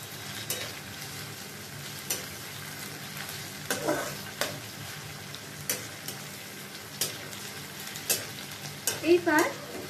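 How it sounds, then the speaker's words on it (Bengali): Onion and tomato frying in a pan for sweet and sour chicken, a steady low sizzle under repeated scraping stir strokes of a spatula, close and moderately loud. "পেঁয়াজ টমেটো একটু সামান্য ভাজা ভাজা হয়ে গেলে"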